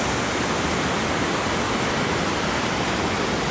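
Massive volumes of water roar through the open gates of Shetrunji Dam, a loud, unbroken wash of noise that stays steady without pause.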